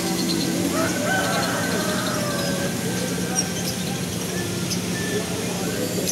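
Native chickens cluck and a rooster crows faintly amid a busy outdoor market background with a steady hum; no clear talk over it.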